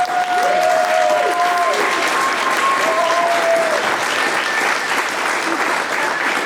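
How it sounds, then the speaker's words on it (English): Loud, continuous applause from an audience at a Missoula Children's Theater performance of Jack and the Beanstalk, honouring the young performers, with a few whistles rising above the steady clapping. "Can we have another round of applause for these wonderful talents?"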